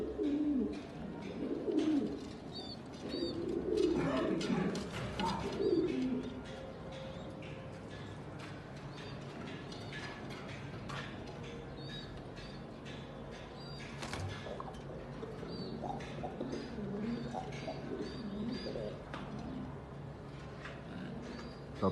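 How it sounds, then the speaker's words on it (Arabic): Pigeons in a loft, including young squabs, coo softly and repeatedly at close to middle distance, with occasional wing flutters and light scuffling, and no talk. "الحمام كله شغال اهو"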